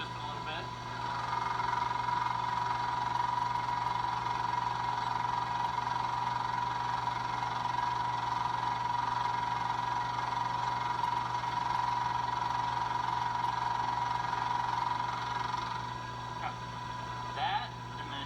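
A milling machine spindle runs at a steady speed, giving a continuous, even whine and hum for about fifteen seconds before it winds down.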